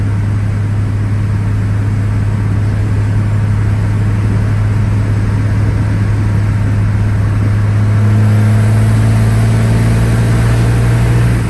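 A 1995 Dodge Ram Supermegacab truck cruises at highway speed around 70 to 75 mph near 2,500 RPM, heard as a steady, loud low engine drone with constant road hum and no break.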